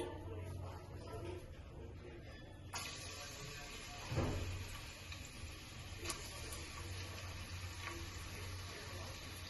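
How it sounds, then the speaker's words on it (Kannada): Onions frying in a pan for methi matar pulao after the earlier spices have been fried: a steady, moderate sizzle with a louder burst as they go in, plus occasional stirring clicks and scrapes. "ಅದೆಲ್ಲಾನು ಕೂಡ ಚೆನ್ನಾಗಿ ಫ್ರೈ ಆದ್ಮೇಲೆ ನಾನಿಲ್ಲಿ ಈರುಳ್ಳಿನ ಸೇರಿಸ್ಕೊಂತಾ ಇದ್ದೀನಿ"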